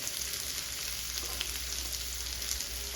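Butter sizzling steadily in a pan while cooking malai mushroom, a soft continuous crackling hiss with faint pops, quiet and even throughout with no talk.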